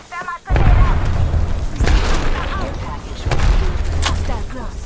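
Repeated heavy booms from grenade blasts in the game Apex Legends, several thumping bursts spread across the moment with dense game noise and a voice talking over them.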